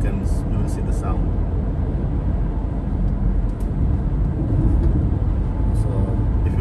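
Car tyres run over a road rumble strip on a Sydney road, making a loud, continuous, coarse rumble inside the vehicle, with a voice talking over it.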